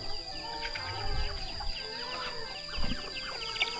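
Chickens clucking in a rural village where pigs, ducks and chickens are kept, faint and scattered against a steady outdoor background, with a few louder low thumps and no talking.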